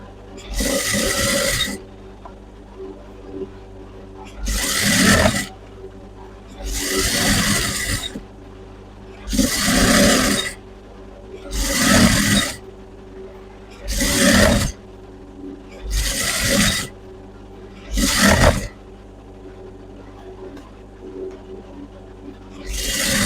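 A sewing machine stitches a salwar in eight or nine separate bursts of rapid whirring, each a couple of seconds long with short quiet pauses between, loud and close.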